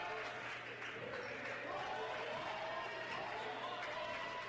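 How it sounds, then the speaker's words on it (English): A high school basketball crowd in a gym, Triton Central against Covenant Christian, keeps up a steady roar of cheering throughout while a commentator talks over it. "The Warrior crowd cheering on its defense."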